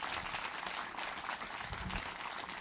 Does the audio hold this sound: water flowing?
no